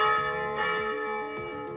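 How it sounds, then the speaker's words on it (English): A brass bell hanging in the center of a Navy SEAL training compound rings close by with a bright sustained tone, struck again near the end as the ringing lingers. "there's a bell, a brass bell that hangs in the center of the compound"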